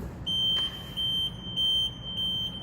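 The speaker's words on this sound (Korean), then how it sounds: "경고 알람과 함께" Emergency stop warning alarm on an S12 ride-on wet floor-cleaning machine: a steady, high-pitched electronic beep pulsing four times in an even rhythm, loud and clear over a low machine hum.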